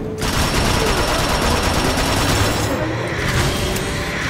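Rapid automatic gunfire from shooting in the Transformers: Rise of the Dark Spark video game, a dense continuous burst of loud, close shots with no talk over it.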